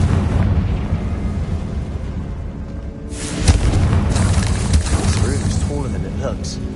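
A Confringo spell in the video game Hogwarts Legacy sets off a loud, sudden booming blast that bursts in midway and rumbles briefly, over an ongoing game soundscape.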